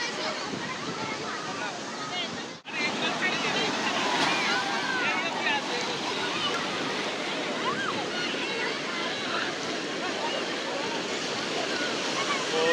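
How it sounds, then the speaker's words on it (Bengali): Ocean waves roll onto Puri beach in a steady, loud surf roar mixed with wind buffeting the microphone, with one brief dropout early on and faint voices in the background. "ও ঢেউগুলো দেখো, সেরা লাগে"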